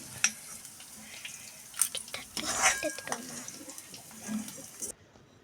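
Sautéed garlic is scraped from a pan onto a plate, sounding as close metallic clinks and scrapes over a faint sizzle before everything cuts to silence.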